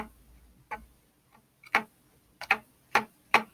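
A few short, dry twangs from a plucked rubber band, quiet and close, the last three coming in a steady rhythm.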